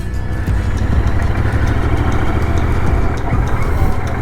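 Royal Enfield Continental GT650 motorcycle on a Sunday ride in India, a loud, steady engine drone with rumbling exhaust and wind, continuous and close throughout.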